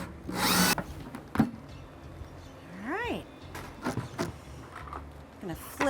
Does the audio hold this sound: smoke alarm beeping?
no